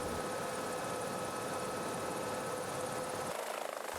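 A BK 117 helicopter engine runs with a steady, dense turbine whine and broadband rotor roar, close and unbroken, the low rumble dropping away near the end.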